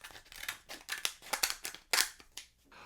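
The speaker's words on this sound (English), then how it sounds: "I like to take a pair of scissors and make sure that my cup is flush." Scissors snip and trim around the rim of a plastic cup, giving a quick series of close, crisp cuts and crinkling plastic sounds in irregular rhythm, with no talking.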